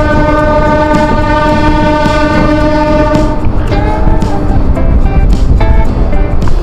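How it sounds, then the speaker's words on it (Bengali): A local train travels from Santragachi toward Mecheda, loud and close with a sustained horn blast over rumbling wheels and rhythmic clatter, the horn fading midway as track noise and knocks continue. "সম্পূর্ণ যাত্রাটা আমাদের দেখাতে থাকি এই লোকাল ট্রেনের জার্নিটা"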